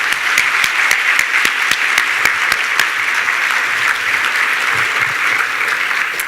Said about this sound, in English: One more time, a big round of applause for Dr.